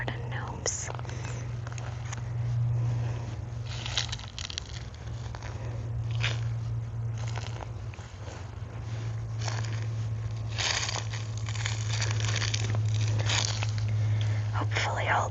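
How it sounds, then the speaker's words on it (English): Crunching footsteps through a garden: a steady run of dry, crackling crunches and scrapes at close range, with a low steady hum beneath and soft whispery noise throughout. "Hopefully all the crunching sounds nice and not annoying."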